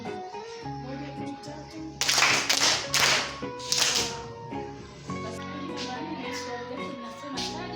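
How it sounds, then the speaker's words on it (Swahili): In a school leadership session, a group claps in a few bursts of rapid, overlapping hand claps, fairly close, with softer taps around them and background talk. "tunapiga makofi matatu alafu tunawachukua"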